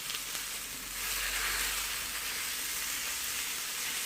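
Ground meat sizzling and frying in a pan, a steady close hiss with occasional stirring scrapes and no talking.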